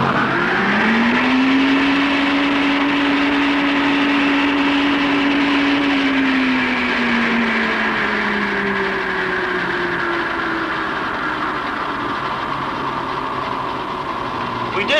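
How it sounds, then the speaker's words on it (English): A wind tunnel blower starts up and runs toward 210 mph airflow, a loud steady roar with a rising tonal whine that climbs, holds, then slowly drifts down under a constant rushing noise. "when we start the blower, we should expect the same speed as before"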